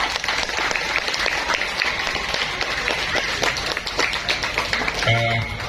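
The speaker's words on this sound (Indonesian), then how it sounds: "Tepuk tangan untuk kita semuanya." A school audience of students bursts into dense, sustained applause, loud and continuous with many hands clapping together.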